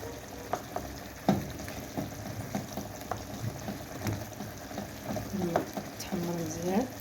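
Chicken pieces sizzling and frying in a pan while being stirred and turned, steady crackling hiss with scraping and clattering of the utensil against the pan, close and continuous without speech.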